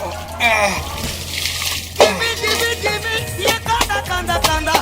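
Clothes being washed by hand in water, with repeated splashing and sloshing close by, irregular and fairly loud, while people talk over it.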